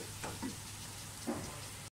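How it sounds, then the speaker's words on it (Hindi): Mutton frying with onions in a pressure cooker makes a soft, continuous sizzle, with a couple of brief stirring clinks and scrapes over the steady hiss. "गोश्त की अच्छी तरह से भुनाई कर लें प्याज के साथ"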